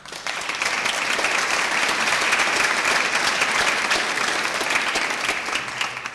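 An audience at a master's graduation ceremony for Human Movement Sciences gives sustained, even applause, with dense clapping swelling in and continuing steadily throughout.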